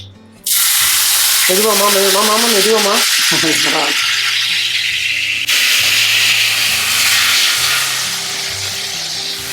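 Tomatoes sautéing in a pan for an anchovy curry: a steady, loud broadband sizzle that holds throughout, with brief talk and other voices in the kitchen early on.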